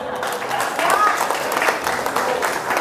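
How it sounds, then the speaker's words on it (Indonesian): Audience applause at a seminar, a steady wash of clapping lasting a few seconds, fairly close and loud, with a voice speaking over it. "Aplaus dulu ya."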